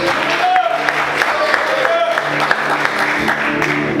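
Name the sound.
congregation applauding in church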